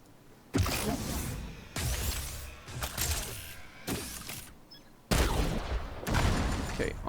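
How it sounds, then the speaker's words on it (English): Artillery turret in The Division 2 firing repeated heavy blasts, about one every second or so, each a loud close boom with a crackling, shattering tail. "Artillery turret."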